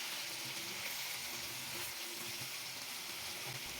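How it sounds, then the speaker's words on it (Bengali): Fried potatoes sautéed with spices in a pan for an egg curry, a steady dense sizzle running unbroken throughout with faint low stirring scrapes beneath. "আলুটা দিয়ে দেওয়ার পর আবারও মশলার সাথে আরও 3-4 মিনিট এটাকে কষিয়ে নিব।"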